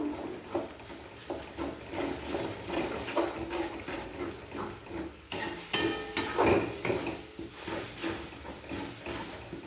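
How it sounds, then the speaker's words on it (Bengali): Eggs being stirred and scraped in a frying pan, with soft sizzling beneath busy clinks and scrapes of a utensil against the pan. "এইভাবে নাড়াচাড়া করে ডিমটাকে ঝুড়ি ভাজার মতন করে নেবো"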